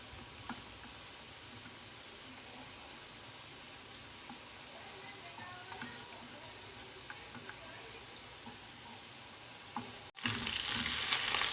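Pepper paste frying in a pan, a soft continuous sizzle with light stirring scrapes, faint and steady, then a sudden louder hiss near the end.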